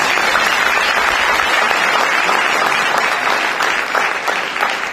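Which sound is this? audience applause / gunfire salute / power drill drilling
audience applause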